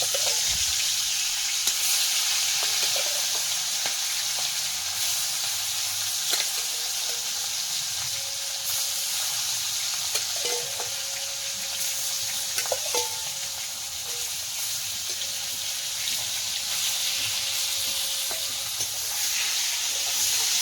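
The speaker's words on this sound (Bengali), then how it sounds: "কাঠের জালে রান্নাটাও হয় ভালো। মাছগুলো দিয়ে দেবো।" Fish frying in a pan over a wood fire, a steady loud sizzle and hiss with occasional stirring clinks and scrapes throughout.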